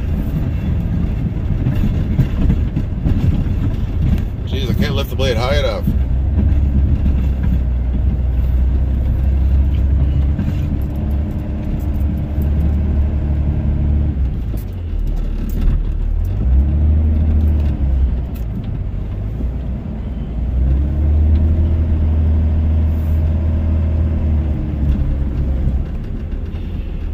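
A Dodge Ram Cummins diesel truck plows cold light snow, its engine a loud, close, continuous low rumble that swells and eases with the load, with rattling cab noise over it.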